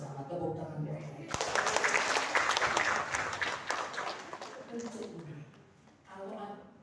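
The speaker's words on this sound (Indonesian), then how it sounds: "Tepuk tangan buat ayah." An audience breaks into applause after a talk, a sudden burst of clapping that swells, holds for several seconds and then fades as a voice returns.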